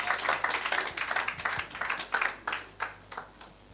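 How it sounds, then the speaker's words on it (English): A live-stream audience claps at a moderate pace for a few seconds, heard as a run of uneven hand claps that slowly thins out, with no one talking over it. "That's why you're clapping the way you're clapping"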